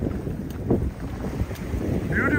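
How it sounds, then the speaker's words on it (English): Sailboat under sail alone with the diesel engine off, wind rushing across the microphone and water washing along the hull in a steady, loud wash with no speech. "Proper sailing. No more motoring."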